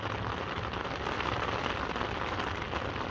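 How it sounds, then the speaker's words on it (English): Heavy rain bursts down in Denver, a steady dense hiss of drops drumming on surfaces, close and loud without pause. "this is more rain than I bargained for"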